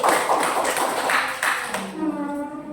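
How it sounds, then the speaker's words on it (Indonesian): A classroom of students claps for a presenting group, with quick scattered claps for under two seconds before they fade and a voice speaks at the end. "Beri tepuk tangan untuk kelompok Mendeli"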